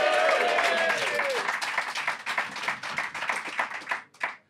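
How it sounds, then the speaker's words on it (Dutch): Loud applause and clapping from an audience at an improvised fairy-tale comedy show, dense at first and thinning into scattered claps toward the end, with a cheer over the start. "Geef ze een daverend applaus."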